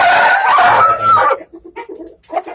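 A rooster crows loudly and close, a long strained call, followed by chickens clucking in short scattered bursts.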